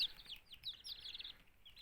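A brief flurry of thin, high peeps comes from freshly hatched chicken chicks of mixed colours and patterns, fresh from an incubator, chirping quietly and continuously.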